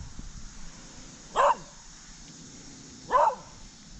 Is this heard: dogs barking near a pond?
yes